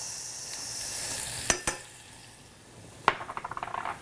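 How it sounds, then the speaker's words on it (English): Maestro bell peppers and shallots sauté in butter with a low, steady sizzle, broken by a couple of sharp utensil knocks on the pan and then a quick run of clinking stirs. "Add our Maestro Bell peppers to the butter. I saute these just to give an extra layer of flavor to the meatloaf."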